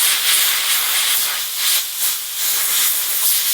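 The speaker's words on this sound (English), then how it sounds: "you want to do this blowing across the camera, not directly into the ports" Soft, steady breathy hiss of air blown across the speaker ports of an iPhone, close and continuous with gentle swells, no talking.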